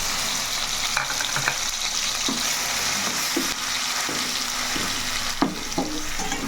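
Mushrooms and onion paste frying in a pan for a mushroom curry, giving a continuous close sizzle with scattered spatula scrapes and light clicks, no voices.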